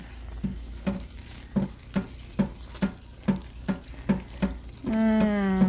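Spoon stirring fragrance into a batch of oatmeal, milk and honey soap mixture, about ten even rhythmic scraping strokes close by, followed by a steady tonal hum at the end.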